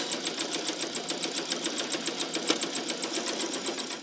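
Sewing machine stitching thread painting over yellow thread around circles, a quick steady rhythmic needle chatter repeating evenly throughout, close and moderately loud with no voices.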